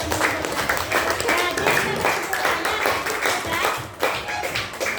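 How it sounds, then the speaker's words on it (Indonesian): Classmates in a school classroom clap for their peers, a steady, dense patter of hands lasting throughout, close and fairly loud, with voices mixed in. "Kita berikan tepuk tangan untuk teman-teman."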